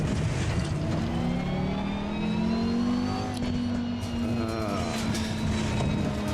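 A racing car engine in a sim racing video game whines steadily at high revs, its pitch climbing slightly and then holding, loud and continuous with no pauses.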